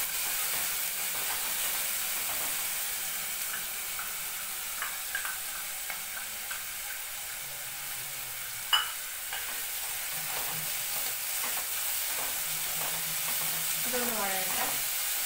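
Onion, garlic, ginger, green chilli and curry leaves sauté in oil for a sardine curry, a soft continuous sizzle with occasional faint spoon scrapes and light clinks, fairly quiet throughout.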